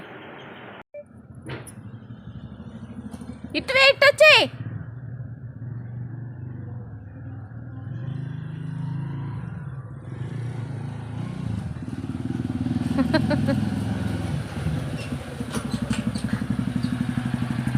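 A motorbike engine idles steadily at close range, with a low rumble that swells a little toward the end, while a few brief voices call out over it.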